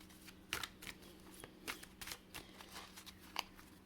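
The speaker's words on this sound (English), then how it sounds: "let's shuffle the cards here and see what your spirit guide is trying to tell you right now" A deck of oracle cards is shuffled by hand, giving quick papery riffles and soft slaps in several bursts, close and quiet with no voices.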